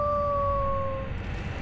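Dog howling in the dungeon game Legend of Grimrock II, two long steady tones held for about a second before fading into low rumbling background noise, with no talk over it.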